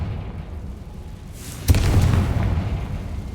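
Confringo fire spell exploding in the video game Hogwarts Legacy, a single sharp blast with a deep rumbling boom that lingers and decays slowly over a low background.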